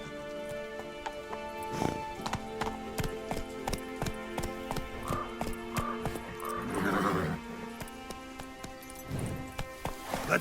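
Roach, the horse in The Witcher 3 video game, gallops with a rapid run of sharp hoof clip-clops that carries on throughout, joined by a brief snort or whinny partway through, with no talk.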